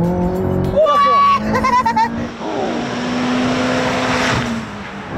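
A McLaren road car accelerates hard on a race circuit, its engine rising in pitch under throttle, with braking and tire noise mixed in while people talk over it inside the car.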